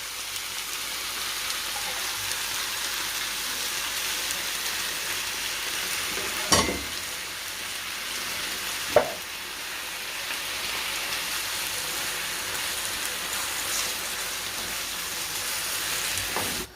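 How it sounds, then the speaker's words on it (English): Chopped tomato is added to a simmering chicken and peanut butter stew. A steady, rain-like frying sizzle holds throughout, broken by a couple of sharp clinks, and no one talks. "We're now going to add in our chopped tomato."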